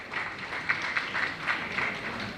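A seminar audience applauds to welcome a guest, steady moderate clapping from a crowd in a hall, with no break in the sound.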